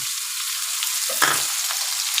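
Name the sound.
chopped onion frying in oil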